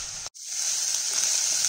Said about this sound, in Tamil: ஜஸ்ட் அது லைட்டாக அந்த சாஃப்ட் ஆற வரைக்கும் வதக்குங்க, அவ்வளோதான்.